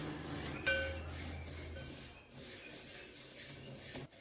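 Sesame seeds are stirred and roasted in a pan over low heat, giving a soft, continuous dry rubbing and scraping with brief pauses, faint and close, with no voices.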